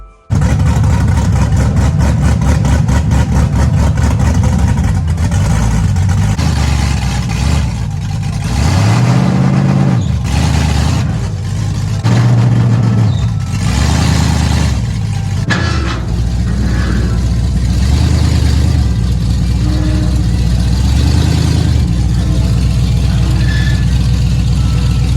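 A big-cammed LS1 V8 burnout car with a loud, lumpy idle, revving and blipping in short bursts as it is driven onto a trailer, close and dominant throughout with no talking.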